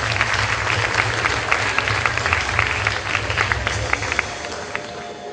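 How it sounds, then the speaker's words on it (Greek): Audience applause at a secondary school fashion show of outfits made from recycled materials, steady dense clapping from a sizable crowd with a low hum underneath, moderately loud throughout. "Χειροκροτήστε την επιτυχία σας."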